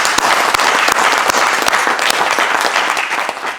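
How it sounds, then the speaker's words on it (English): An audience at a university event marking a stuttering awareness day gives a round of applause, dense steady clapping from many hands that stays loud throughout and tapers slightly at the end. "I think that merits a round of applause"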